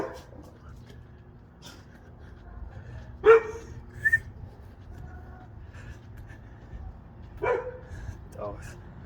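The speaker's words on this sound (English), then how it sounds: "Dogs, they be bored, man. They just want to bully anybody who walk by sometimes." Dogs barking at passersby outdoors, giving a few sharp barks at a moderate distance with gaps between them over a low background hum.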